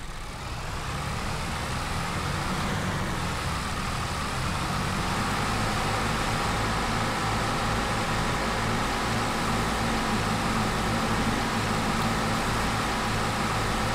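A modded vehicle engine in Farming Simulator 22 drones steadily at a cruising pace, a dense, continuous mechanical hum with no breaks, loud and unchanging throughout.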